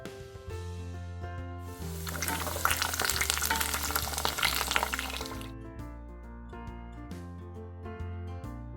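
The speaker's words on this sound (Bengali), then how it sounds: "এইদিকে পাঁচ রকম ভাজার প্রস্তুতি চলছে" Food fries in a home kitchen. A loud burst of sizzling oil swells for a few seconds in the middle and then fades, over steady background music.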